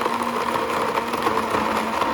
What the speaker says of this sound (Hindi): And just blend it.